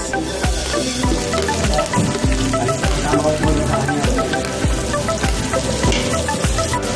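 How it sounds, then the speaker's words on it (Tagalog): Chopped garlic sautés in hot oil in a pan for a mussel tinola dish, giving a loud, continuous sizzle broken by regular spatula scrapes and taps. "nilagay na yung bawang. Gisa-gisa lang."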